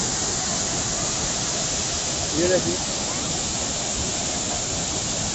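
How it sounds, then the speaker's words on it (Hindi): A high waterfall in Jabalpur plunges down, throwing up mist. It makes a dense, unbroken roar that fills the scene, and a voice briefly speaks over it near the middle. "ये यहाँ पे जो जलप्रपात है वो गिर रहा है"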